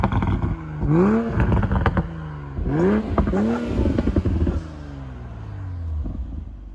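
A 2020 Toyota Supra engine revs hard in several quick, rising bursts close by, then winds down to a lower rumble as it settles.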